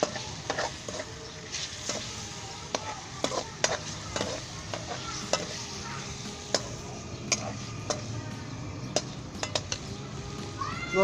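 Boneless chicken fries in hot oil with ginger, garlic, black pepper and salt, giving a steady close sizzle broken by frequent sharp scrapes and clinks as a utensil stirs the pan.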